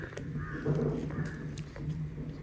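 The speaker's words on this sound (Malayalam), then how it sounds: "അതിൻ്റെ ഇടയ്ക്ക് കാക്കകൾ കയറി വരുന്നുണ്ട്" Crows caw repeatedly outdoors in Salalah while pearl-spot fish roasts in banana leaf nearby. The harsh calls come through fairly close over a steady background hum.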